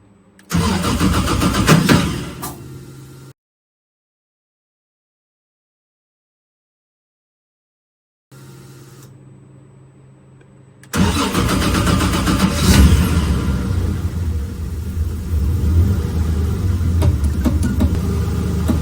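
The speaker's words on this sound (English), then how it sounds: "So I'm going to fire up the engine and I'll let it warm up probably to around 100 degrees before I start testing anything." A cold car engine with electronic fuel injection cranks briefly, falls silent, then catches on a second attempt and settles into a loud, steady, somewhat rough idle close by.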